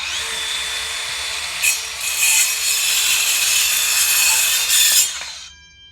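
A Dewalt 20V Atomic compact 4-1/2-inch circular saw cuts off an excess piece of wood, giving a loud, close, steady high whine for several seconds before spinning down to quiet, with no talking.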